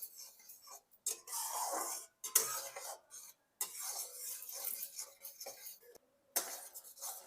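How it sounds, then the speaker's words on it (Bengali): Jaggery boiling on a high flame while a spatula stirs it, giving repeated scraping, rasping strokes in uneven bursts with short pauses, close and moderately quiet. "এইভাবে কিন্তু আমি খুন্তির সাহায্যে 1-2 মিনিট এটা নাড়তে থাকবো আর হাই ফ্লেমে গুড়টাকে ফোটাবো"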